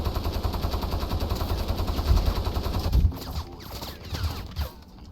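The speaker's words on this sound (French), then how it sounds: "Je vais essayer de tuer le Zodiac avec cette mitrailleuse." Machine gun fire from the video game Crysis: dense, continuous automatic bursts with heavy low rumble, loud and close for about three seconds, then thinning into scattered shots and a quieter tail.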